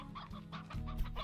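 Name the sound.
chickens clucking in Slime Rancher video game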